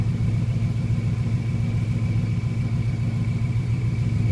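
A 1999 Subaru Forester fitted with a swapped 2002 WRX engine and exhaust runs steadily at highway speed, a continuous low, even engine drone and road rumble heard from inside, with no voices.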